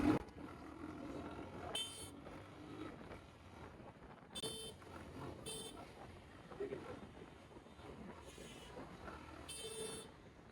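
A motorbike horn honks several short times on a busy road, sharp bright toots standing out over traffic noise and wind, with someone talking between them.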